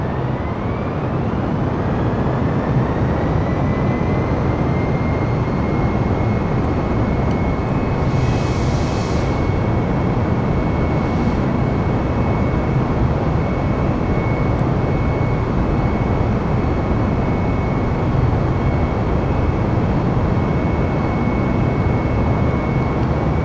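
Aircraft engine in a flight simulator game throttling up for takeoff after the parking brake is released, a steady loud broadband roar held throughout with a faint rising whine, no talk.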